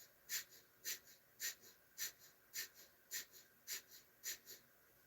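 During a yoga breathing exercise, a person takes quick, rhythmic breaths, about ten airy, slightly wheezy pulses evenly spaced around two per second, faint but close to the microphone with no talking.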